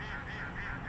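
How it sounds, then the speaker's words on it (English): Ducks quack and honk by the South Holston River, a short close burst of nasal calls against steady background noise. "the ducks thought that was a pretty funny concept"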